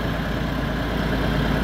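A modernised T-150K tractor with a rebuilt original engine idles nearby, a steady low, rumbling drone that holds even and continuous throughout with no voices.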